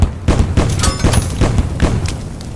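Repeated booming explosions in the burning game Little Inferno, a rapid series of loud thuds and bangs about every quarter second, close and punchy, with no talking over them.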